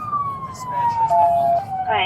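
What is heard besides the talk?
police car siren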